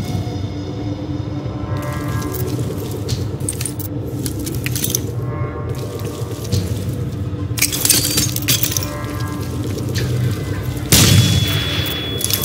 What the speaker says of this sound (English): Garage is sealed, Alcatraz. You need to blast your way in.